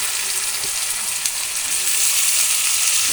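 Chopped tomato hitting hot oil in a pan while cooking a Bengali banana-blossom dish, a loud dense sizzle that swells slightly toward the end, with faint stirring taps and no speech.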